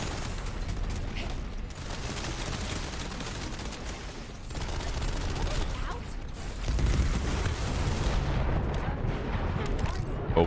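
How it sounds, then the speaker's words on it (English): Missile barrage in The First Descendant video game: a dense, continuous roar of explosions and rapid blasts rumbles loudly, with heavier booms building toward the end. "1 million missiles"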